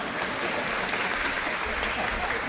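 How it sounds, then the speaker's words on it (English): Audience clapping at a senior awards day ceremony, a continuous dense wash of applause from a crowd filling the whole moment at moderate volume. "y'all can go ahead and clap"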